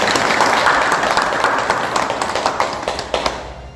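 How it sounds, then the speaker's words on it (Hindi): Loud, sustained applause from an audience at a community committee formation gathering in Odisha, a dense wash of many hands clapping at once, close and steady throughout. "हमें जोरदार ताली सहित स्वागत"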